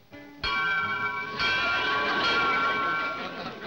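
A school bell rings in a cartoon, a bright metallic clang that starts after a short lead-in and rings on loudly and alone, with a second strike partway through before it slowly fades.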